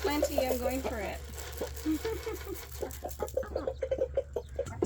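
Backyard hens clucking in a short series of soft, irregular calls, partly under a person talking, with a steady low hum in the background.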